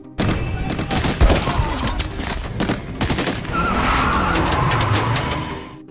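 Gunfire in an action film, rapid bursts of shots and sharp cracks mixed with screeching vehicle sounds and a loud rumbling score, close and intense.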